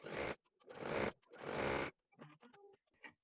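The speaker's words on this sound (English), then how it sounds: "I'm using this seam line as my guide to stitch that in place" A sewing machine edge stitches a skirt along a seam line, running in three loud, steady bursts of about half a second each, with brief pauses between them, followed by quieter, scattered handling sounds.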